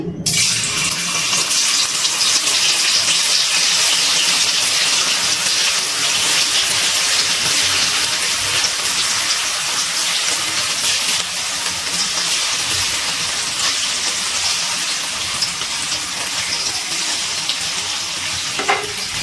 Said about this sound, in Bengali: গ্যাসের ফ্লেমটা মিডিয়ামে রেখে পনিরগুলো ভেজে নিচ্ছি।